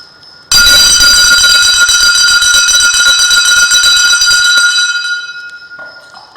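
A puja bell rings during Kali worship, one long bright ring with a dense metallic shimmer that stays loud for several seconds and then fades.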